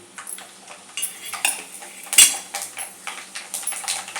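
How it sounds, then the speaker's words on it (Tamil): Fenugreek and then mustard seeds crackle in hot oil for a South Indian vatha kulambu tempering, with a spoon scraping and clinking against the pan in a run of light, irregular taps and sizzling bursts, close by with no talk. "1 ஸ்பூன் வெந்தயம் சேர்க்குறேன். பொரிஞ்சு வரட்டும்."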